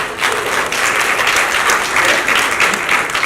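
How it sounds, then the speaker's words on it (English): A conference crowd at a brand awards event breaks into loud, continuous applause, full and steady from start to finish. "Please clap for yourselves."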